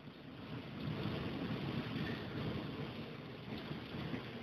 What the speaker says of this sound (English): That is all pea-sized hail on the mulch out the back door